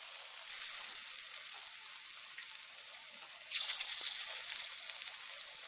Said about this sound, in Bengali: বাকিগুলোকেও আমি একই রকমভাবে ভেজে নেব।